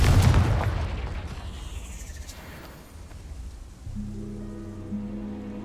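A blasting-spell explosion in the video game Hogwarts Legacy: a loud booming burst at the start that rumbles and fades over a couple of seconds, followed by a low sustained game tone.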